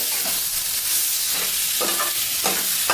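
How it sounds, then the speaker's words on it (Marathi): Roasted, peeled eggplant fries and gets stirred with spices in a pan, a loud, steady sizzle broken by a few scraping stirs near the end. "या सर्व मसाल्यांबरोबर परतणार आहे वांग थोडं परतून घेतले"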